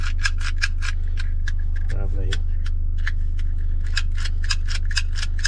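A Cyclone key-cutting machine hums steadily while its cutter makes a rapid series of sharp, regular ticking clicks as it cuts a key, with a short murmur partway through.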